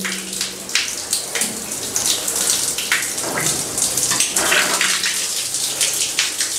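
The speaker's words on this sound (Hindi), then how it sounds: "अभी थोड़ा थोड़ा पानी ज्यादा होना शुरू हो गया" Water gushes and splashes steadily from an opened tap on a galvanized iron pipe just cleaned with citric acid, a loud, continuous spattering rush with no talk.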